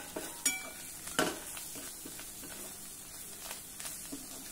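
A mashed vegetable mixed with plenty of fresh coriander sizzles softly in a pan while it is sautéed, with spoon scrapes and a few light metallic clinks over a low frying hiss.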